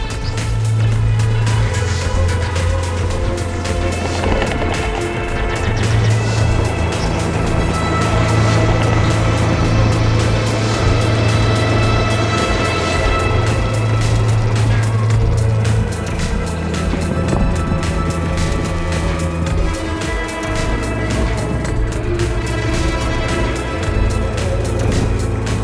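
A Bomber 8 12 kW electric motorbike rides off-road, its motor holding a loud, continuous whine with shifting pitch over steady wind and rolling noise.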